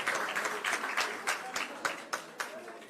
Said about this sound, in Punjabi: ਜ਼ੋਰ ਦੀ ਤਾਲੀਆਂ ਮਾਰ ਕੇ ਉਹਨਾਂ ਨੂੰ